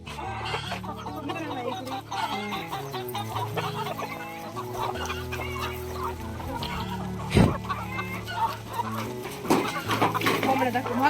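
A flock of domestic chickens clucking continuously on a Maharashtrian home farm, many birds close and overlapping, with a sharp bump partway through and a person talking intermittently over them.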